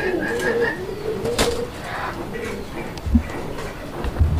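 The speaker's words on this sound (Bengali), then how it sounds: "দর্শক কবুতরগুলো দেখেন" Bombay pigeons coo nearby in soft, repeated low calls near the start, followed by a few faint rustles and thumps while the birds settle.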